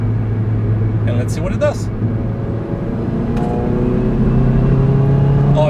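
A car engine pulls steadily in fourth gear at about 3,000 RPM, a continuous loud drone whose pitch rises slowly, with someone talking over it.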